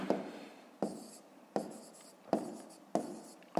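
A pen writes on paper during a fifth-grade maths exercise, five separate strokes each starting with a sharp scratch and fading, spaced about every 0.7 seconds, close and quiet.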